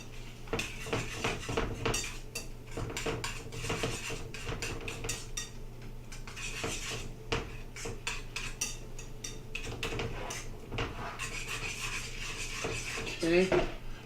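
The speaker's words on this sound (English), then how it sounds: "I'm gonna whisk that out really quick" A quick whisk beats egg yolks, Parmesan cheese and pasta water together in a bowl for spaghetti carbonara. The metal clatters and scrapes in rapid, uneven strokes, close and continuous, with a soft hum underneath.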